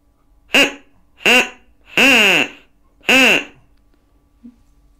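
A musical instrument imitating a duck's quack sounds four distinct, loud, nasal quacks at an irregular pace, each standing alone against near silence, with a small faint click afterward.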